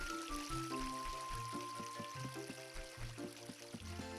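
A steady, soft rush of water from a waterfall in The Legend of Zelda: Ocarina of Time on the N64 runs continuously under the game's melodic background music.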